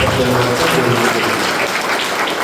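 A church congregation clapping hands during worship, a dense, continuous wash of applause heard close and loud, with voices mixed in beneath.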